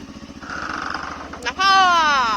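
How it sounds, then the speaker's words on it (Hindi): A new motorcycle putters away with a pulsing engine burble, rising in pitch and volume as it revs and pulls off, then a higher, continuous whine; the motor is heard alone with no voices. "देखो मेरा नया बाइक वो लोग ले जा रहे हैं"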